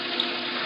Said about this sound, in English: I turned on the faucet in the sink.